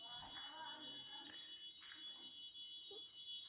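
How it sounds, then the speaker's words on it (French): A building fire alarm sounds as a steady high-pitched electronic tone running through the whole moment, with faint speech and movement beneath it. "Voilà, il y a l'alarme"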